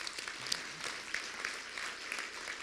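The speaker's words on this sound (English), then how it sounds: "how about a round of applause for all of them as well?" Applause at an awards ceremony for general counsel, a thin scattered clatter of clapping from an audience, moderately faint and continuous with a few sharper claps standing out.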